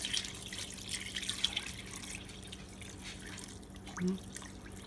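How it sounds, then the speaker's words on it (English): Water runs into a pot for bone broth soup, a soft steady trickle and splash with faint drips, fairly quiet and without speech. "And then just pour in water."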